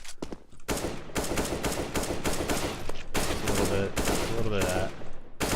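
Rapid gunfire from an aim warm-up in a video game, with quick headshot flicks producing dense, repeated loud shot bursts almost without pause, while a voice talks briefly over the shooting.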